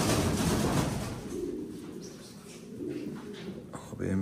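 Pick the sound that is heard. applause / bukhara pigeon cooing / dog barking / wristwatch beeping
bukhara pigeon cooing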